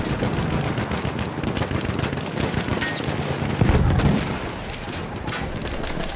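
Machine gun fire in Battlefield 1, a continuous rattle of rapid shots layered with distant booms over a noisy battlefield, a heavier blast rising near the middle.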